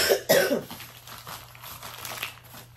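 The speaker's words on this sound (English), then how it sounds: "See, I still got a little cough" A couple of sharp coughs up close, followed by quieter throat sounds and faint rustling.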